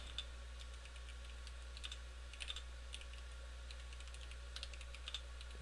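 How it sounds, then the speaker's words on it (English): Steady keyboard typing during a practice session, with irregular bursts of light key clicks over a constant low electrical hum, fairly faint and close, with no talking. "a stream where I practice my typing"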